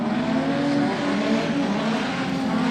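A production sedan race car at a speedway track, heard as steady engine roar with possible tyre noise as it spins a 360 on its own after turn two, a continuous loud drone throughout.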